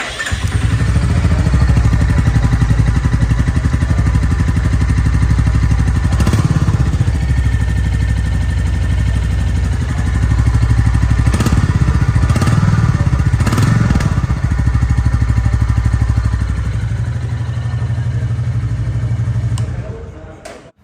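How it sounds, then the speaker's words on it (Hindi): A Royal Enfield Bullet motorcycle engine idles and revs loudly and close by for about twenty seconds, with a steady thumping drone and brief throttle blips before it cuts off at the end. "मैं आपको इस बाइक का साउंड सुना देता हूँ कैसा है।"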